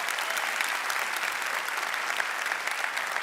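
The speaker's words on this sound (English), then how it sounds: "Let's give these folks a big round of applause." An audience at the GitHub Universe 2019 keynote breaks into loud, dense applause that holds steady throughout.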